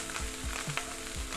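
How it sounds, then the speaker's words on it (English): Slices of gyro meat dropped into hot grapeseed oil in a pan give a steady, close frying sizzle with a few louder crackles and spits, heard alone with no talk. "That initial sizzle when you drop it in the hot pan is exactly what you want to see."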